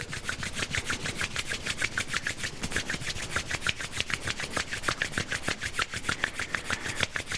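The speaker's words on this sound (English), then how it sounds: "And then let's warm up our hands now just by rubbing them together." Hands rub briskly together during a tai chi warm-up, a fast, even run of dry swishing strokes repeating steadily and close up, with no talk.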